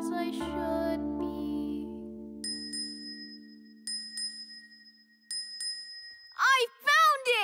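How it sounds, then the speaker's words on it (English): A small bell in a Thomas & Friends: All Engines Go! cartoon rings out in clear, sustained dings, struck several times over a soft musical background, followed by a child-like cartoon voice. "I've got this bell with me."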